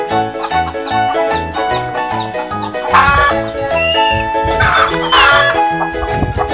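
A chicken clucks loudly in short bursts, close by, over a steady background of repetitive music.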